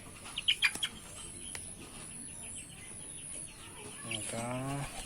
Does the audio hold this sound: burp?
no